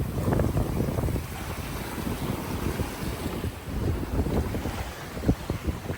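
A sailboat runs along the Canary Islands coast under jib alone at about six knots, with steady wind buffeting the microphone and water rushing and slapping against the hull, no voices.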